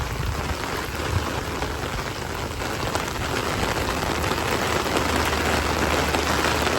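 Steady rain pours at the entrance of a safari park, a dense, even hiss of drops hitting surfaces that fills the whole stretch without pause.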